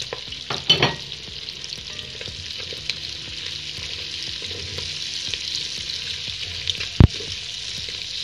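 Chopped onion sizzles in a pot with smoked bacon while being stirred for Hungarian bográcz goulash; a steady close frying hiss runs throughout, with a few scraping stirs near the start and a sharp clack of utensil on pot near the end.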